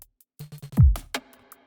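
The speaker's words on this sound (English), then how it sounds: "the drums sound like this" A short drum loop from a sample pack plays with a few tight kick and percussion hits, a booming low drop, and a bright snare hit with a ringing plate-reverb tail.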